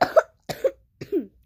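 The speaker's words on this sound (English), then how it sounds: "I'm probably gonna cut the parts where I cough out" Three separate coughs come in quick succession at close range, each a short two-part burst with a brief silence between, and no one speaks.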